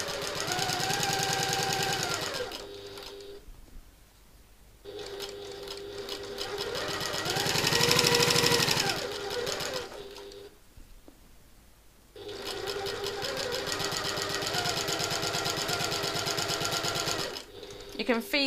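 A sewing machine stitches a satchel, running in long steady bursts separated by short pauses, close and clear, with loud rhythmic needle chatter.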